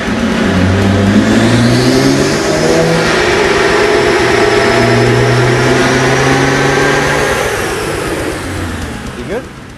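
A BMW 335i engine revs loudly and steadily through rising gears on a dyno, a long, sustained high-power run that winds down near the end.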